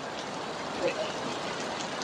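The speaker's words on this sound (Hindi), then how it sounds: "देखो कितना बारिश पड़ रहा है।" Heavy monsoon rain falls in Mumbai as a steady, close hiss of drops on surfaces, with faint background noise and no clear voices.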